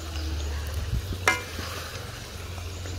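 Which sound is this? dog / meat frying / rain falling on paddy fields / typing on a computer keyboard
meat frying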